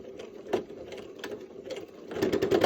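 A sewing machine back stitching through thick layers of flannel makes a close, steady run of rhythmic mechanical stitching pulses that grows denser and louder toward the end.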